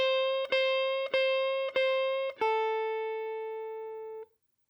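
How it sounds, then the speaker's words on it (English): A clean blues guitar note is picked four times in even succession, each ringing briefly, then a final longer note is bent slightly in pitch and sustained before cutting off, heard alone and close. "A quarter step bend sounds like this."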